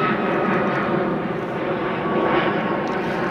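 A fixed-wing airplane passing overhead on the flight path near Manchester Airport, a loud, steady broadband engine roar that swells slightly and holds throughout, with no speech.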